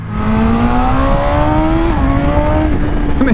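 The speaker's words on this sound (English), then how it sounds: "It's got this almost sort of electronic whirring airbox noise, like a whoo." A BMW M 1000 XR motorcycle engine at speed, loud and close, with a sustained whirring, rising drone that shifts pitch as the bike pulls through gears, alone without talk.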